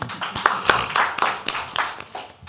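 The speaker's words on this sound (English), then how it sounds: "Round of applause" Applause for Delegate Carl Anderson at a Wicomico County Council legislative session: a small group clapping in a close, uneven patter that fades out after about two seconds.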